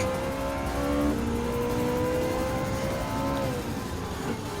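A Ferrari race car engine in Gran Turismo 7 on the Barcelona Grand Prix circuit howls steadily, its pitch climbing and dropping through gear changes as it runs alone without talk.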